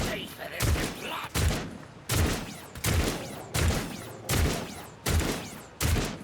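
A long volley of heavy gunfire from Warhammer 40000: Rogue Trader, twenty rounds loosed in about eight evenly spaced booming bursts, each a loud thump with a ringing tail, with talk faintly underneath.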